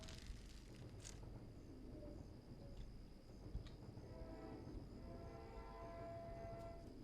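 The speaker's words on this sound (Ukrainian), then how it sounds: "Вже чутно, що потяг їде." A train approaches in the video game This Land Is My Land, a faint, steady low rumble with a thin tonal whine that continues without a break and has no talk over it.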